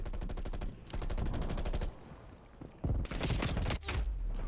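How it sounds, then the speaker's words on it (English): Rapid automatic gunfire from the video game Mass Effect, loud bursts of fast repeating shots with short pauses between volleys. "Like right there, I ran out into gunfire."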